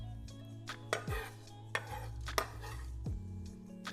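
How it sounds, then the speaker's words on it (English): A knife chops fresh cilantro finely on a board, with a run of light, irregular taps and knocks, close but quiet, and no talking. "Chop this up nice and finely."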